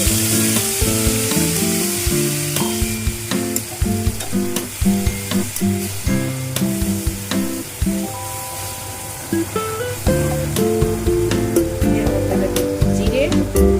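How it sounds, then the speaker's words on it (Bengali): Dry red chillies fry in hot oil for a home-style koi fish curry with cauliflower and potato, a continuous crackling sizzle running under background music. "আর শুকনো লঙ্কা তেলের মধ্যে দিয়ে দিলাম"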